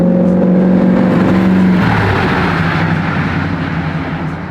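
A chopped and dropped, garage-built 1949 Chevy truck with a stainless exhaust revs up loud and close, its tone climbing and then breaking off into a rougher, fading engine note.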